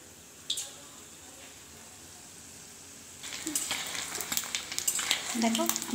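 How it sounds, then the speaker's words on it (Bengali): Egg-batter-coated pieces for egg chilli drop into hot oil and start frying: a quiet stretch with one faint clink, then a crackling sizzle swelling up at close range and staying busy to the end. "আমি এভাবে ডিমের গোলায় দিয়ে আমি এগুলোকে ভেজে নেব।"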